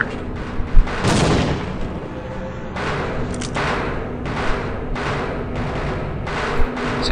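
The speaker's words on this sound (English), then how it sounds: "Chuck the grenade there." A grenade blast in the Half-Life video game: a sharp, heavy explosion near the start, followed by a run of loud, broad bursts and rumbling game noise, with no talking.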